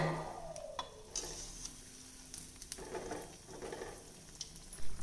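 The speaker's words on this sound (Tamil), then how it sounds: "இப்போ பாருங்கள் எண்ணெயோட சலசலப்பு அடங்க ஆரம்பிச்சிருச்சு" Appam batter frying in hot oil gives a soft, steady sizzle and crackle, with a few brief scraping or stirring knocks over it and a louder clatter near the end.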